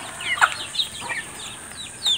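Hen clucking near her single remaining chick in a rural village yard, several short soft clucks and chirpy calls scattered over two seconds, fairly close and moderately quiet, with no talking.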